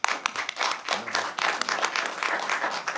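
Applause breaks out in a city council chamber right after a motion passes unanimously, a steady patter of many hands clapping at close to moderate range for about three seconds, with no talking over it.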